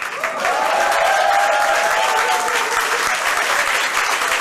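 Loud, steady applause from a crowd, dense clapping sustained throughout with a faint tonal hum underneath.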